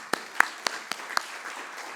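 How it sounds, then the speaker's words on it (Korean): Five or so scattered, sparse hand claps from a congregation at a Wednesday service of a multi-ethnic church, each a crisp slap over a quiet room, faint and unsynchronized rather than full applause. "우리 스스로를 한번 칭찬하면서 박수 한번."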